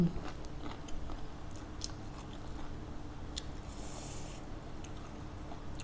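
Someone chews crispy fresh shrimp close up, with quiet, repeated crunchy bites and soft chewing sounds.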